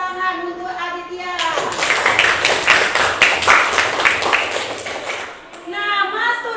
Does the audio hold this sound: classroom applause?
yes